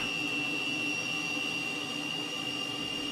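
Steady high whine and broad rumble of a Cessna T-37 Tweet jet engine idling just after start-up in Microsoft Flight Simulator 2020, a constant tone running unbroken throughout with no voices.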